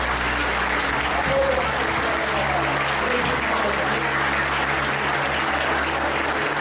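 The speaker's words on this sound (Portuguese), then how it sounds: "Aplaudam a Deus por essa palavra. Aplauda o Senhor por essa palavra." Church congregation claps together in a sustained, even burst of applause that fills the room, with low hum and faint voices underneath.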